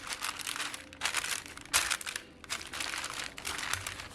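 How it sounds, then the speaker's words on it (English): A sheet of parchment paper crinkles and rustles close up as it is laid over a keto chicken pizza crust, in several soft, rapid bursts with brief pauses. "And now we're going to just take the other piece of parchment paper, put it over the top."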